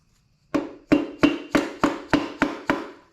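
A small hammer taps an engine piston down into its cylinder on a rebuild, eight sharp metallic knocks at an even, brisk rhythm, close and clear against near silence.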